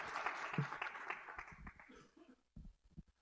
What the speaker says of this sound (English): I think we should give another big round of applause for that wonderful rendition of God Bless America